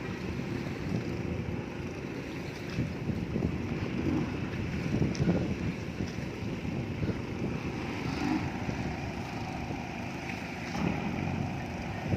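Steady rumbling engine noise of fishing boats, including longtail boats, on the Pattani River, with wind buffeting the microphone throughout and no voices.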